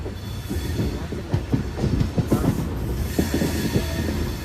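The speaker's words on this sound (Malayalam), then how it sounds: "നമ്മളെ ട്രെയിൻ എറണാകുളം റെയിൽവേ സ്റ്റേഷൻ കഴിഞ്ഞു." Passenger train rolling past Ernakulam railway station: a steady close rumble of wheels and carriages with rhythmic clatter and brief squeals, loud throughout with no voices.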